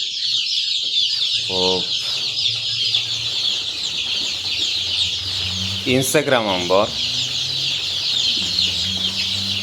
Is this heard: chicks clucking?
yes